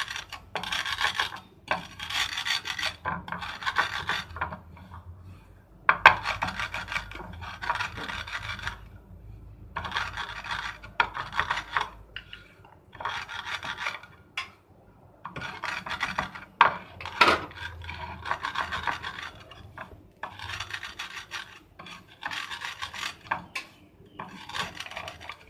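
Roasted spices for jaljeera masala are ground by hand, giving a long run of rhythmic rasping, scraping strokes, close and steady with brief pauses between bursts.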